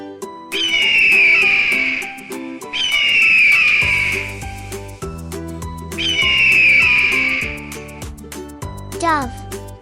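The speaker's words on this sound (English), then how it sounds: "Eagle," Three long, shrill, whistling eagle screeches ring out one after another, loud and clear over bouncy children's background music.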